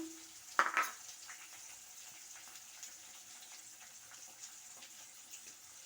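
Onion, green chillies, dried chillies and curry leaves fry in a pan for radish talimpu, a faint steady sizzle with a brief clatter near the start.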